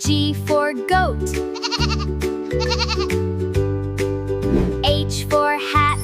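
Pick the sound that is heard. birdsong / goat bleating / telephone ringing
goat bleating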